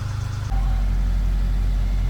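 A VW GTI with a DSG gearbox idles cold on a lift in a garage. It makes a steady, close, low rumbling hum after a brief change at the start.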